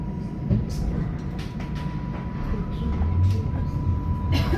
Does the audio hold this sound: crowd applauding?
no